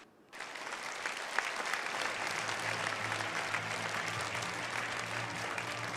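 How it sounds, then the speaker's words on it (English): Conference audience applauds at a global peace leaders' conference, a dense, sustained burst of clapping that starts sharply and holds steady throughout. "let us give once again another big round of applause to President Natalia Kutsenko"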